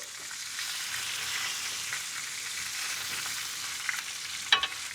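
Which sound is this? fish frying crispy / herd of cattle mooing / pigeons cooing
fish frying crispy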